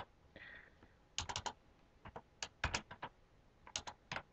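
Computer keyboard typing in short uneven bursts of crisp key clicks, close and fairly quiet, with brief pauses between flurries and no talking.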